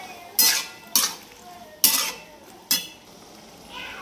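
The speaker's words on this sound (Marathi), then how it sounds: "त्यामध्ये थोडीशी हळद टाकून घेते हलवून घेते एकदा चांगलं" A spoon stirs turmeric into a pan with four sharp, separate metallic clinks at uneven intervals, close and fairly loud, with a faint background hiss and no talking.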